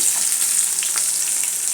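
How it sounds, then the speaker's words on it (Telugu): A steady, bright hiss of onions frying in oil for uggani, close and even throughout, with a few faint stirring sounds. "ఎర్రగడ్డలు వేసాను, నూనెలో పోపు వేసాను"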